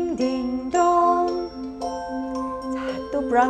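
Brahms' Lullaby melody played on ringing chime-like tones, sustained notes stepping up and down, clear and close.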